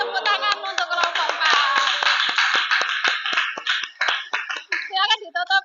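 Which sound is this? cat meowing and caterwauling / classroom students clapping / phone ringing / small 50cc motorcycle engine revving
classroom students clapping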